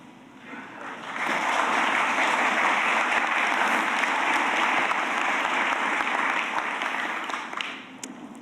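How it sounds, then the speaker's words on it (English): Loud, sustained applause from an audience at a Georgetown McDonough School of Business undergraduate awards ceremony, swelling within a second, holding steady for about six seconds, then tapering off. "Please hold your applause until all of the accounting recipients have been recognized."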